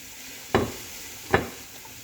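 Boiled shredded chicken is stirred in a hot cooking pan over a quiet background sizzle, with two sharp scraping strokes of a spoon or spatula about a second apart.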